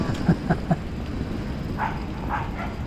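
A few quick dog barks sound in a short burst at moderate distance, heard during an evening ride around Upper Seletar Reservoir in Singapore over steady outdoor rumble, followed by fainter vocal sounds.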